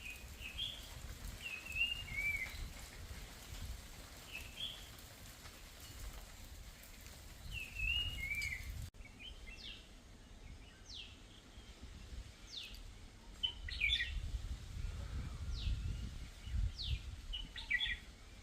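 Birds chirping and singing at a lakeside with greenery, several short calls in the first half, then quicker sharp chirps later, over a steady rain-like background hiss.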